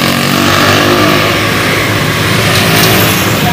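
A motorcycle engine revving loudly and close, a continuous dense mechanical roar with steady throttle and no speech over it.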